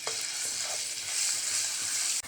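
Ginger and garlic fry in hot oil with a steady, close sizzle that swells slightly midway, a faint stir or two, and a brief dip near the end.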